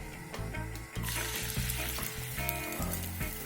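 Omelet eggs sizzle and crackle steadily in a hot frying pan, with a few soft clinks and scraping sounds as the food hits the surface.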